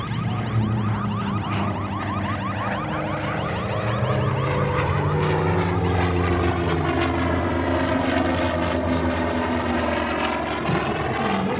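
A Corsair propeller fighter flies past at an airshow in Leszno, its engine a steady, loud drone with shifting pitch that rises and falls as it passes, heard alone without talk.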